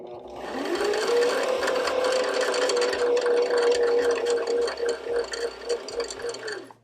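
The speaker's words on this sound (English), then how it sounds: "you then go on to pressing the foot pedal slowly to fill up this bobbin" A Brother GX37 sewing machine winds a bobbin under foot-pedal control, its motor whirring in a steady, fairly loud hum that holds for several seconds, then wavers and slows toward the end.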